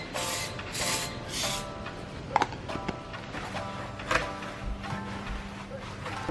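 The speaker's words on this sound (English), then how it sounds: "all we got to do is just prep it up with some brake cleaner" Brake cleaner sprayed onto a new brake rotor for a Toyota MR2: three loud hissing aerosol bursts at the start, followed by clinks, handling noises and quieter shop background.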